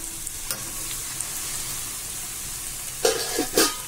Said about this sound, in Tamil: நல்லா செவந்து வர மாதிரி வறுபடணும்